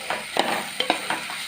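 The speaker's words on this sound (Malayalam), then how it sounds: "വറുത്ത് ഇതെല്ലാം സവാളയും ഉരുളക്കിഴങ്ങും എല്ലാം നെയ്യിലാക്കിയിട്ട്" Onion and potato frying in ghee, a close sizzle with four or five quick stirring scrapes of a spoon in the pan, moderately loud and with no voices.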